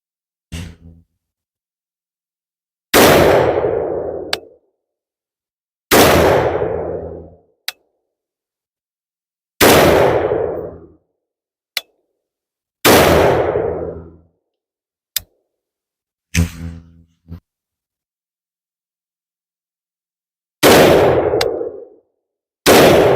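Rifle shots ring out from a barrel fitted with a birdcage flash hider and no suppressor: about seven loud, sharp cracks, each with a short ringing tail, spaced a few seconds apart in otherwise quiet surroundings.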